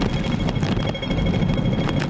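Strong Super Typhoon Saola winds in Ngau Tau Kok, Hong Kong, a loud, continuous roaring gust buffeting close to the microphone throughout.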